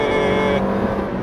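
A Toyota Corolla with a CVT fakes a gear shift, its engine hum running steady and then dropping abruptly in tone partway through this brief, fairly loud moment.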